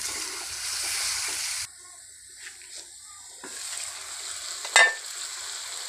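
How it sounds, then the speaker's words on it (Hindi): Soft sizzling of mutton frying in a pan for karahi gosht that cuts out briefly, then resumes faintly, with a quick clatter of a utensil near the end; no voices. "इसे जो है ना वो 5 या 10 मिनट के लिए मैं अच्छी तरह से फ्राई करूँगी"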